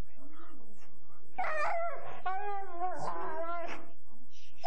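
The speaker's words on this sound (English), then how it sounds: "Jennifer and Troy Dow love their Siberian Husky, Emerson, but he's almost impossible to live" A Siberian Husky named Emerson lets out drawn-out wavering howls and high whimpers, loud and close, rising and falling in pitch with short pauses between cries.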